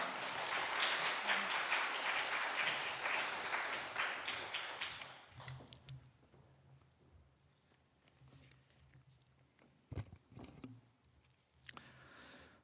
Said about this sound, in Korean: 우리 큰 박수로 환영하도록 하겠습니다